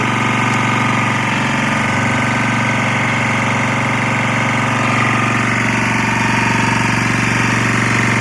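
A Lombardini 6LD260 diesel engine idles steadily after a cold start, having sat unused for ten years, with a loud, continuous, even rumble that stays close and constant throughout.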